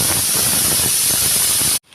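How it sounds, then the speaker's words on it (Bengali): A pressure cooker whistle vents steam in a loud, continuous hiss that cuts off abruptly near the end, heard close up in a home kitchen. "তো এই আমাদের 3 নম্বর সিটিটা হলো, আর একটা সিটি হওয়া পর্যন্ত ওয়েট করব।"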